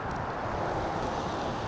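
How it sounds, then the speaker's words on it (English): Outdoors beside a highway near a commercial strip, gusty wind buffets the microphone in a dense, continuous rush. "Woo, it's windy"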